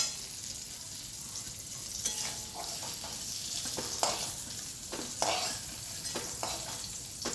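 Potato and pointed gourd fry in a pan with a soft continuous sizzle, while a utensil stirs and scrapes in irregular sharp strokes close by.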